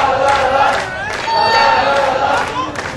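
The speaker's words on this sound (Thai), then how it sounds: "เพลงเชียร์นี้เขาร้องจำง่ายครับไม่กี่คำ" Football supporters in a Thai Premier League stadium, Muangthong United against Chula United, chant a short repetitive cheer song together, a loud massed crowd voice with rhythmic swells, close and continuous.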